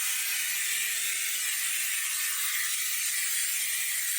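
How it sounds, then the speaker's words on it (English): Bissell Steam Shot hard surface steam cleaner blasting steam through its concentrator nozzle while cleaning a microwave interior, a constant loud hiss held steady for the whole stretch with no pauses and no voices. "We're gonna steam the ceiling, we'll steam the sides and the bottom"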